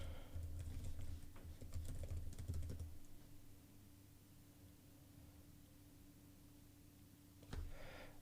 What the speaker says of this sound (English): I'm going to have to go ahead and type my email address.